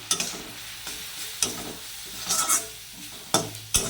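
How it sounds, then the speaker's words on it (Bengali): Spices sautéed and stirred in a pan for egg potato curry: a soft sizzle with a handful of spaced scrapes and clinks from the spoon, close up and without speech. "ভালো করে মশলাটাকে কষিয়ে নিতে হবে"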